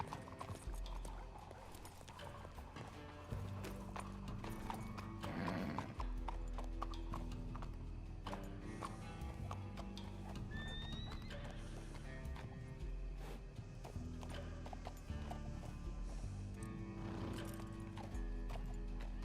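Horse hooves clip-clopping in a video game, a steady rhythmic trot heard fairly faint under game music and ambience, with a brief whinny partway through.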